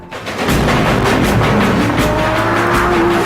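A Lamborghini driving a winding Alpine road from Davos to Stelvio, its engine roaring loudly and steadily close by, with a faint tire squeal as it takes the bends.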